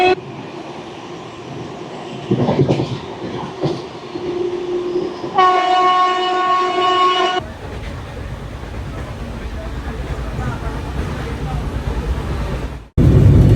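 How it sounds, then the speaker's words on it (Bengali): Passenger train running on rails between Kolkata and Purulia, a steady rumbling roll throughout with a sustained horn-like tone in the middle and a brief break near the end. "আমাদের ট্রেন কিন্তু আজকে একদম রাইট টাইমে চলছে"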